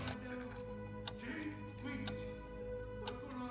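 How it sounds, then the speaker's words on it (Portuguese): Clock hands ticking off the seconds in a scene from a Moon Knight episode, regular faint ticks under a steady musical drone and background ambience. "podemos ouvir o som dos ponteiros com o passar de segundos"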